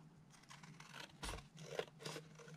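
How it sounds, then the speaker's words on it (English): Scissors trimming the edge of a paper journal page, with several quiet crisp snips spaced unevenly across a short, close, otherwise hushed moment. "I'd like to just trim the edge off"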